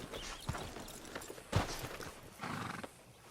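Horse hooves clop in Red Dead Redemption 2 as a rider pulls up outside the sheriff's office in the town of Rhodes: a few scattered hoof thuds, a sharp snort and a short whinny, moderately close.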